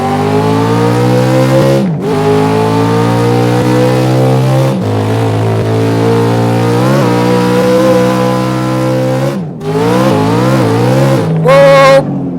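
A 1971 Dodge Demon with a 340 twin-four engine revs loudly and close, its harmonic engine note rising and falling through repeated throttle blips and gear changes, with brief drops between pulls.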